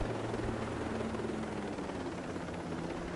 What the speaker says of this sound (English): get into the helicopter.